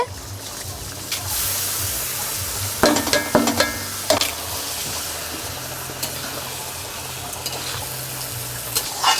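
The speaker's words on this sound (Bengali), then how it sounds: "চালটা ভালো করে কষে নিতে হবে কাঁচা" Raw rice with cashews and raisins fries in a pan for basanti pulao, with steady sizzling broken by scraping stirs and clattering spoon knocks, close and fairly loud with no talk.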